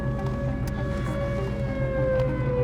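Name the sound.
warning siren sounding during storm chase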